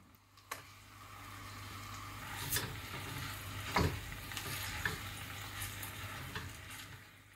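About 500 g of minced meat sizzles in a cast-iron pot with garlic and onions, a steady frying hiss broken by a few scraping stirs and clanks.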